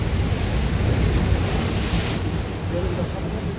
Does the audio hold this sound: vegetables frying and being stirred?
no